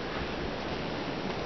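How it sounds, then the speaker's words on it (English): Strong gusting wind roars steadily on a porch, a loud, dense broadband rush that stays unbroken throughout. "The wind is insane today."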